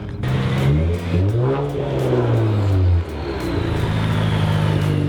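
A Nissan Z with a 3-inch straight-pipe exhaust accelerates hard down a drag strip, a loud raspy engine climbing in pitch through the gears with brief dips at the shifts, close and continuous.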